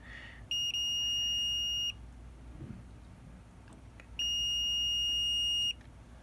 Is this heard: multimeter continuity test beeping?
yes